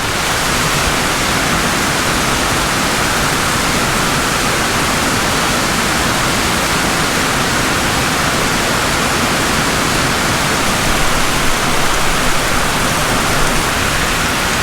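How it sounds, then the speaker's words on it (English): Heavy rain pouring down on a vegetable farm, a dense, loud, unbroken hiss of falling water that holds steady throughout with no voices. "Well, we just got ourselves a good rain. It's still coming down."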